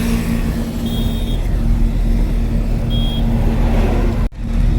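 A truck drives along a road between Hoshangabad and Jabalpur, with a steady low engine drone and road noise heard from inside the cab, ending in a brief dropout near the end.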